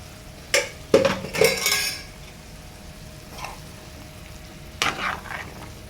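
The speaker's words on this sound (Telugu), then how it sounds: "ఇలా మగ్గేసిన తర్వాత మనము ఈ చికెన్ అనేది ఇందులో అనేది వేసేసుకుందాం." Chicken pieces dropped into a pan of simmering meal maker (soya chunk) curry, a few sharp clattering clinks of a spoon against the pan, then quieter stirring and sizzling, with another scrape near the end.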